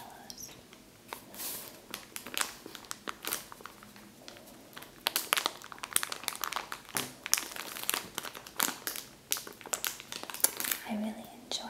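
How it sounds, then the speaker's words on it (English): Crinkling of a small plastic bag holding miniature marshmallows, a steady run of close, crisp rustles and crackles that swell and fade across the clip, with a voice talking softly at points. "A small bag of little tiny miniature marshmallows."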